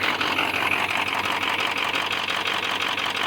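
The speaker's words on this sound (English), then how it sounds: "It just sounds like regular idling." A car engine idles with a steady, even drone and a faint rapid ticking, close by and continuous with no talking.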